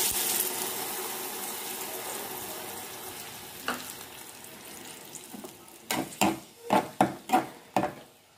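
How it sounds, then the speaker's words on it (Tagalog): Water poured into a hot pan of instant pancit canton with squid balls and hot dogs sets off a loud hiss that fades over several seconds, followed by a series of rhythmic scraping knocks as the pan is stirred. "Magdadagdag po ako ng konting tubig."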